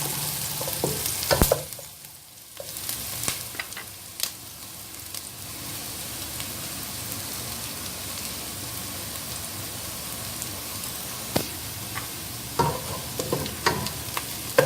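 Garlic sautéing in a pan for Filipino-style spaghetti sauce, a constant close sizzle with scraping stirs and sharp clacks of a spatula against the pan.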